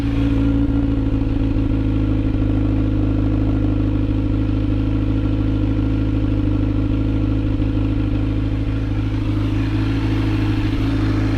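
Kawasaki Z900 motorcycle engine fitted with a slip-on exhaust, idling steadily up close with a deep, throbbing low rumble and light mechanical clatter, holding constant loudness throughout with no talk.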